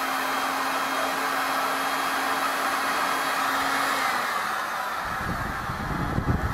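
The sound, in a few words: heat gun blowing hot air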